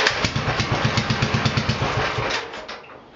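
A 1948 Farmall L engine cranking and sputtering as someone tries to start it after a throttle shaft bushing change, a steady rhythmic chug of pulses that fades and dies away near the end, heard close and alone.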